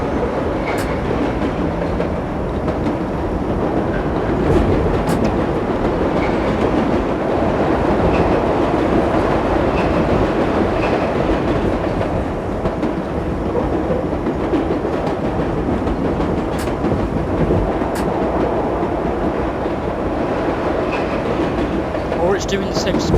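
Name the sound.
New York subway train running, World of Subways video game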